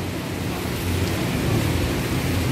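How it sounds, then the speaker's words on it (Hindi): Rain falls steadily at the start of the rainy season, a constant broadband hiss with a low rumble underneath and no other sounds. "ये देखिए रेनी सीजन"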